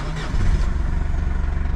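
A Mazda Bongo Friendee camper van with about 130,000 km on it cranks briefly and catches, settling into a steady, close, low engine rumble.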